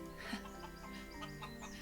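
A duck in the Equilinox nature game gives short, quacking clucks in a quiet, repeating series over soft ambient music, fairly faint and unaccompanied by talk.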